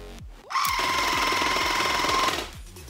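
Revyline RL600 portable oral irrigator switching on, with a click followed by a steady close motor-and-pump buzz with a faint whine that holds for about two seconds, then stops.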